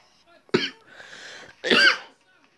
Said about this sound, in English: I'm gonna have to edit that coughing out.